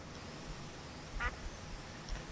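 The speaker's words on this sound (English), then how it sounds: "But ooh, there's a duck up here." A single short duck quack in a Minecraft world, faint and brief amid a quiet ambient background, followed by a softer second call near the end.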